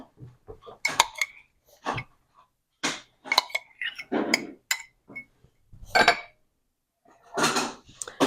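Oat yogurt, buttermilk and cornmeal are mixed together in a bowl, producing scattered, close clinks and scrapes of a utensil against the bowl in irregular bursts separated by short silences.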